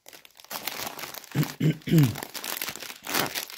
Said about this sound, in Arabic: هنفتح الكيس التاني